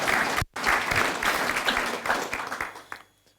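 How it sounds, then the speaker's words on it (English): An audience at a new candidates event breaks into loud, steady applause that fades out toward the end. "please, with a round of applause."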